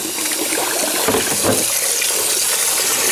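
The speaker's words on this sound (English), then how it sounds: "This is hot water, just running hot water from the sink." Steady rush of hot water pouring from a tap into a sink, continuous and close, with a bright hissing spray and no voices.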